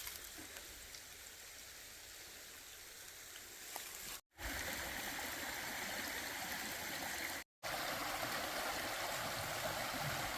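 Mill Creek streaming beneath a bridge in Big South Fork, Tennessee, a steady close wash of rushing water, broken by two brief dropouts.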